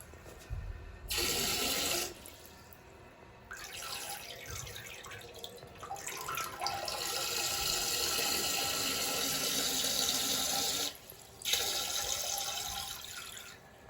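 A handheld bidet sprayer blasting water in short hissing bursts that stop and restart, then a longer steady spray close by in a bathroom, with no talk over it.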